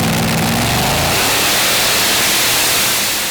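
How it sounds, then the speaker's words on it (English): Pulling tractor Gambler, powered by a Chevy 461 engine with an 871 supercharger, roars at full power, a loud, rough engine note that fades slightly toward the end, with no voices. "it's a Chevy 461 with an 871 supercharger, but trickling to a stop before the halfway line"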